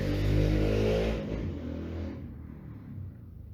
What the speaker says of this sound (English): the freaking motorcycle just passed.